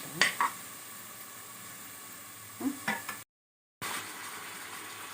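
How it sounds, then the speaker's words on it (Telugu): Onion pieces and ginger-garlic paste fry in a pan for a country chicken curry, producing a steady low sizzle with a couple of brief stirring clinks near the start and again later, then a short dropout before the sizzle resumes. "ఉల్లిపాయ ముక్కలు బ్రౌన్ కలర్ వచ్చాక అల్లం వెల్లుల్లి పేస్ట్ వేసుకుని ఫ్రై చేసుకోవాలి"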